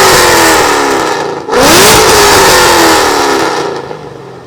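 A 2011 Cadillac CTS with aftermarket headers, exhaust, pulley and tune revs hard at a car gathering exhaust competition, with two loud, close rising roars and a brief dip between them before the engine winds down.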